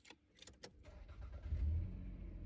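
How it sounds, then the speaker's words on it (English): A car being started during a driving lesson in Lagos gives a few brief clicks and rattles, then a low engine rumble that swells and keeps running steadily, close and fairly quiet. "I should start the car."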